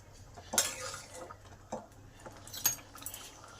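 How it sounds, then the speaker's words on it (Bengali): A spoon stirs sugar into lentil dal in a cooking pot, giving three or four soft metallic clinks and scrapes spaced apart against a quiet background, with no talking. "চিনিটাকে ভালো করে ডালের সাথে মিশিয়ে দিই"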